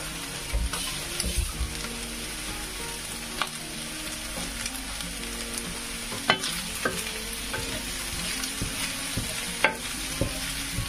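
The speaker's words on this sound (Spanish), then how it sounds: "Y ahora tienes que sofreír hasta que esté todo bien mezcladito y suelto." Rice ingredients with salt and cilantro or parsley being sautéed in a pan, a steady close sizzle with scraping stirs and occasional utensil knocks against the pan throughout, no voices.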